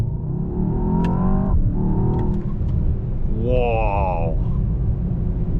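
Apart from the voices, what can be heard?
Mercedes S63 AMG V8 hybrid engine accelerating, turbo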